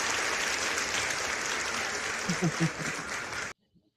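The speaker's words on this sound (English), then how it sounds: "Go ahead and give Torp a round of applause" Audience applause for a guest joining a gig-work talk show, a continuous, fairly loud round of clapping with a few cheers that cuts off abruptly.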